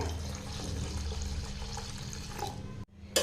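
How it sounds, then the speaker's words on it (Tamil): Water, about two tumblers, pours steadily into a cooking pot for a few seconds with a soft rushing splash, then stops abruptly. "ஒரு ரெண்டு டம்ளர் தண்ணி சேர்த்திக்கலாங்க"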